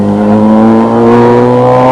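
A rally car at the 1996 Snowline Rally in Ohakune accelerates hard, its engine a loud, close, sustained droning roar with steady rising tone over the short stretch.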